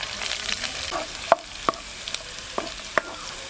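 Chopped garlic and ginger frying in a pan for a sardine curry masala, with a gentle sizzle under sharp spatula clicks against the pan, close and with no voices.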